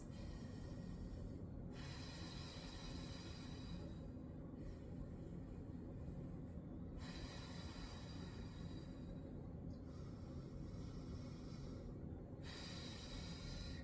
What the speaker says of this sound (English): Let's go ahead and take 3 full rounds of breath together. So 3 full inhales, 3 full exhales.